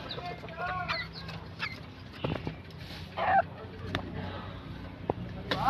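White junglefowl, a wild chicken, gives short scattered clucks and calls amid rustling outdoor background, with a brief louder call near the middle and another at the end.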